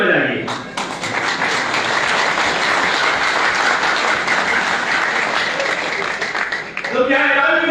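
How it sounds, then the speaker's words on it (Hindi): Audience clapping at a live Hindi-language event on the old pension scheme for employees and teachers, a sustained loud burst of applause that cuts off abruptly, followed by a voice speaking. "जब बजाएंगे जम के बजाएंगे।"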